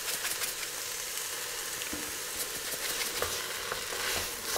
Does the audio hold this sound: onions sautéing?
yes